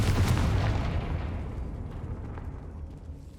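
Confringo fire spell in the Hogwarts Legacy video game bursts with a loud, close boom right at the start, then a low rumbling tail slowly fades over the next few seconds, with no voices.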